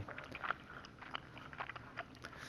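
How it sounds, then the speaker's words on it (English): Faint, moist chewing of gum heard at a distance in the horror video game Death Mark, soft irregular smacking and clicking over a quiet, hissing background. "I hear a noise like someone chewing gum at the other end"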